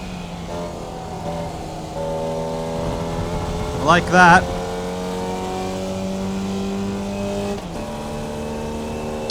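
A Formula Vee with a carbureted engine from a 70-year-old design hums at steady revs in iRacing and then climbs to a slightly higher drone. A voice speaks briefly over it.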